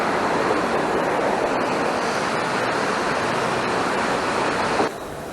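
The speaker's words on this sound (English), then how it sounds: "Look at this river." A river flowing beside an old disused grinding mill, a loud steady rush of water that fills the whole scene and then drops suddenly to a softer, more distant flow near the end.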